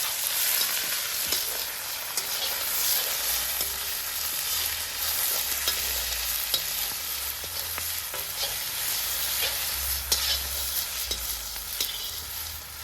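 Onion fries in very hot oil in a traditional iron kadai in a village kitchen, giving a loud, dense, crackling sizzle with scattered pops and scrapes throughout.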